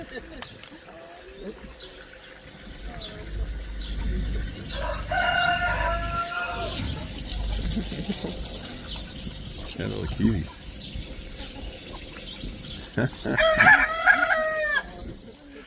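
Chickens and cockerels in a rural village on the Camino between Azqueta and Los Arcos, with two loud crowing bursts a few seconds apart amid farmyard sounds, while people chat nearby.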